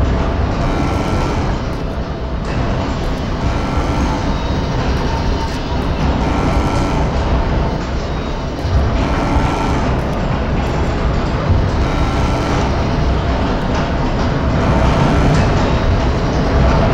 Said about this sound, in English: Launch control train activated.